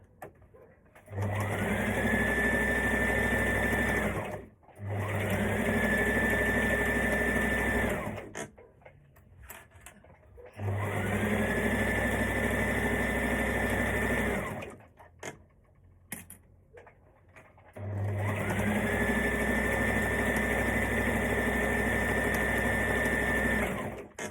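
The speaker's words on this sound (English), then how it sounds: "So we'll continue sewing this right the way around." A sewing machine stitches around a maxi skirt in four long runs of steady, rapid mechanical whirring, each lasting several seconds and stopping abruptly, with brief quiet pauses between them and no talk.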